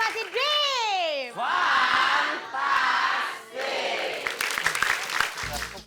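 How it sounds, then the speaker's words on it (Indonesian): Studio audience on an Indonesian TV game show, loud shouts and excited high voices giving way to dense clapping mixed with crowd noise. "kita kasih tepuk tangan dulu dong"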